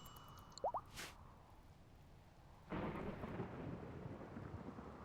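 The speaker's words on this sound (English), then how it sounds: "There goes here comes the rain." Rain and thunder in the survival game Rise from Ashes: a brief thunder crack with chirping early on, then a steady wash of rain that starts abruptly partway through and keeps falling at a fairly quiet, even level.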